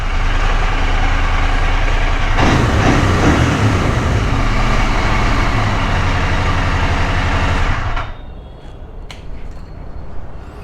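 Royal Enfield Interceptor 650 motorcycle idling loudly up close, then the engine is switched off around the eighth second, leaving quieter background noise.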